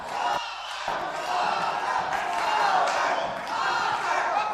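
Massed shouts from a boxing crowd chanting a fighter's name in the final round, swelling in repeated waves with a brief dip early on, heard at a moderate distance and level.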